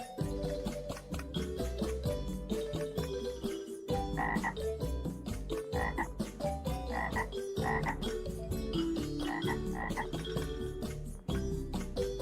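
A frog croaks repeatedly in a loud, rapid, rhythmic series that runs continuously and close up, with brief pauses between bursts and no talking.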